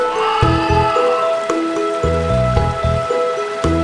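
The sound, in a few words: rain falling in a video game forest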